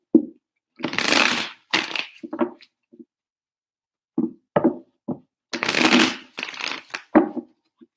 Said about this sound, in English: 3 shuffles for Aquarius.